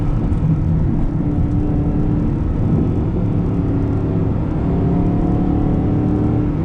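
A 2012 Mercedes-Benz SLS AMG supercar is driven on the road, its engine a loud, steady drone heard from inside the cabin, with no voices.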